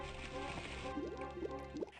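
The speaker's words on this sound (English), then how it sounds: "And so you hear him splashing around," Watery gurgling and splashing from King's Quest VI as Alexander struggles in the island currents, a few bubbling surges near the end over a steady low background, with no voices.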